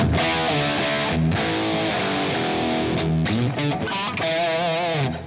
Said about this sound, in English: you have this big heavy distorted guitar